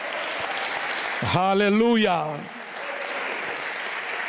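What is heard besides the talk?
church congregation applause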